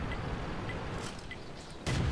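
An artillery shot strikes a KV-2 tank in the World of Tanks video game: a sudden low boom bursts in near the end, over steady background game noise.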